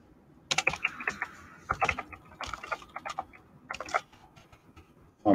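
Someone types a service address on a computer keyboard during an online Project Fi sign-up, a run of quick clicky keystrokes in short bursts with brief pauses, close and fairly quiet.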